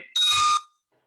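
A bell rings once at a Rotary Club meeting, a bright sustained ring lasting about half a second and then cutting off into quiet.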